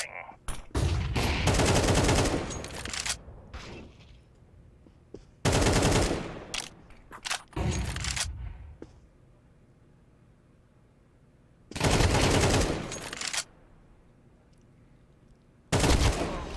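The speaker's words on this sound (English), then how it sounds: "Throwing a flashbang!" Gunfire and a flashbang grenade in a shooter video game, heard as several loud, dense bursts of rapid shots separated by quieter gaps, with occasional faint voices between them.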